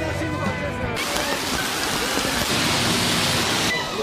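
Heavy rain pours down across an outdoor all-night rock festival in Kumamoto, Japan, in 1987, a dense steady hiss throughout with a brief swell near the start, while faint voices mix in underneath.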